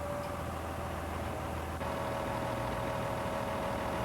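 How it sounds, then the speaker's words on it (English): A wheel loader's engine idles at a steady low rumble, even and continuous with no revving, heard at moderate distance. "Let the engine idle for a few minutes to cool down gradually."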